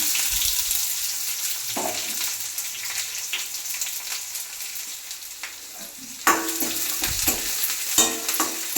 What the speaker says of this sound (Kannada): ಬೆಳ್ಳುಳ್ಳಿ ರೋಸ್ಟ್ ಆಗಬೇಕು ಸ್ವಲ್ಪ ಈರುಳ್ಳಿ ಹಾಕ್ಬೇಕಾಗುತ್ತೆ